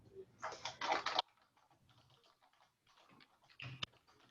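Quick bursts of clicking keystrokes on a computer keyboard, a loud flurry at the start, then sparse, quieter taps and another short cluster near the end, with faint background sound between.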